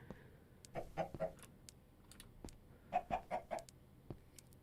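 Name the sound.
chickens clucking in Minecraft video game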